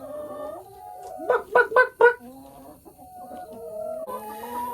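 Chickens cluck in a video game over a steady electronic backdrop, with three loud clucks in quick succession near the middle.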